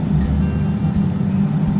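A strained car engine drones steadily at low pitch, a struggling motor laboring for turbo boost on a car with clogged, likely cracked housings; continuous and close, with no talk.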